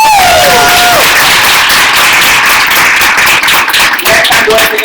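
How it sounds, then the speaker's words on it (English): A crowd at a Black Lives Matter event breaks into loud, sustained applause with dense clapping that carries on throughout, along with a few brief cheers and whistles. "Give Trina a round of applause."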